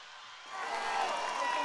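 Festival crowd in Maipú applauding the singer, a dense wash of clapping and cheering that swells after a quiet start and holds steady and loud.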